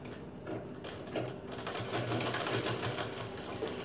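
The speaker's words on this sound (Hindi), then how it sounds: "तो यहाँ पर ये जो सिलाई हम लगाएंगे थोड़ा दूर से लगाएंगे" A sewing machine stitches fabric for a blouse with a steady, continuous mechanical whirr and rapid needle clatter. It sounds close and fairly loud throughout, with no one speaking.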